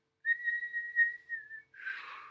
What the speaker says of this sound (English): You don't need to whistle